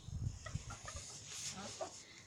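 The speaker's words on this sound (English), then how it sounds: "They're all my female chickens." Hens cluck softly nearby in a backyard flock, a few short, faint clucks and murmurs over low background noise.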